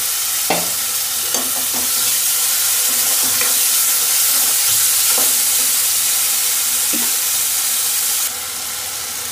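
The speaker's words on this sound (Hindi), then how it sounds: "तो इसमें हम टमाटर डाल दूंगी" Tomato paste hits hot oil-releasing masala for dal kachauri aloo sabji, giving a loud, steady sizzle with scattered stirring scrapes and clinks throughout, no voices.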